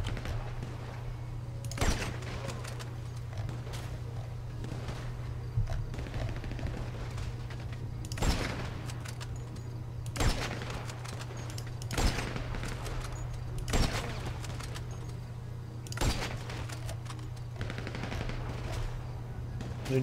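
Gunfire in the video game GTA V during a heist, with sharp bursts and single shots spaced every few seconds over a steady low hum, under occasional quiet game noise.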